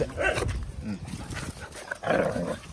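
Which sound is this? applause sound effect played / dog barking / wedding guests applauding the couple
dog barking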